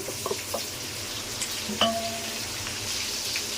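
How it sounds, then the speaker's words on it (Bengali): Onion and shrimp fry in hot oil with a steady, close, hissing sizzle that runs throughout, broken by a few faint clinks and taps of a utensil. "তেল গরম করে পেঁয়াজটা ভেজে নিচ্ছি, তার সঙ্গে আমি দিয়ে দিব চিংড়ি মাছ।"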